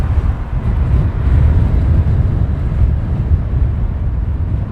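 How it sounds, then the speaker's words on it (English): Strong gust of wind buffeting an outdoor microphone at Heathrow Airport, a continuous loud low rumble that swells and churns without letting up, with no voices over it. "Where's this gust coming from?"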